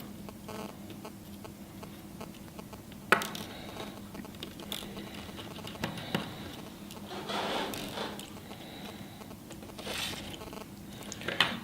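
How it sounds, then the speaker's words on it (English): Star head screws come out of an iPhone 5C in a quiet room, making small ticks and ratcheting clicks from a screwdriver, with a few sharper taps spread through. "removing the star head screws that cover the camera and"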